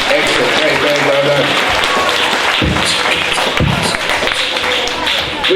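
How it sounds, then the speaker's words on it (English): Loud, steady applause from a school audience at a primary-school poetry showcase fills the whole stretch, dense and continuous with a few heavier thumps and a voice briefly audible beneath it. "Give him a round of applause."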